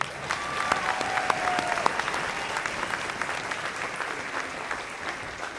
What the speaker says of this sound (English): She really deserves a big round of applause.